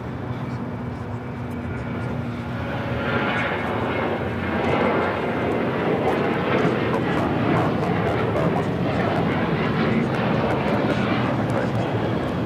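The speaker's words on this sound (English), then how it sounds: "This is Delta Airlines 478 taking off to Austin on the 737-800." A Delta Airlines Boeing 737-800 takes off at LAX with a broad, rising jet-engine roar that builds and holds strongly throughout, while people talk underneath.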